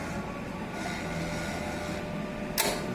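An eco solvent printer runs its automatic nozzle-cleaning cycle, a steady mechanical hum and whir close by with a brief sharp hiss near the end, and no voices.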